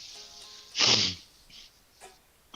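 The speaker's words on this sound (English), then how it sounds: "sorry, another sneeze." A single sneeze bursts out about a second in, loud and close, with faint background sounds before and after it.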